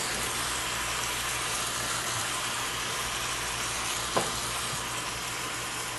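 A beef roast sears in a hot pan with potatoes laid around it, giving a steady, even sizzle with one faint clink partway through.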